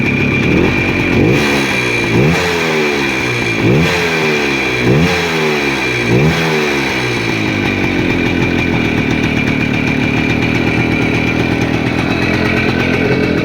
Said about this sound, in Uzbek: Hali sovuq motor, gaz berib ko'raman